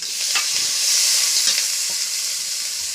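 Onion and green chili fry in oil in a home kitchen, giving a steady, close, loud sizzle with a few soft stirring scrapes and no talking.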